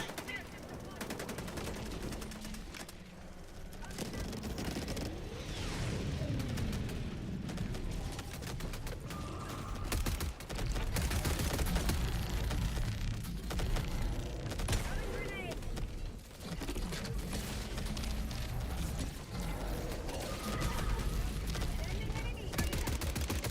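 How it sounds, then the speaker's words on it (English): A minigun fires without pause in an online shooter fighting Illuminate enemies, a dense, loud, continuous roar of rapid shots that fills the whole stretch. "Why is my minigun getting quieter and quieter?"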